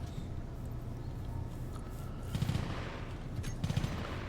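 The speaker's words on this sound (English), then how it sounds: "That's a pistol firing?" Rapid gunfire from a pistol in the Space Engineers video game, two short bursts of quick shots sounding fairly faint beneath a steady background hum.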